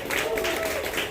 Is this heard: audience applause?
yes